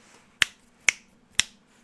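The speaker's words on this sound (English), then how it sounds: "snap your fingers" Three crisp finger snaps ring out alone at a steady, evenly spaced rhythm, close and clear over a faint background hum.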